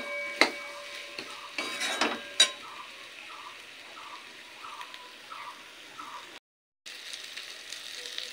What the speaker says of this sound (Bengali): তো ভালোভাবে নেড়ে চেড়ে নিয়েছি।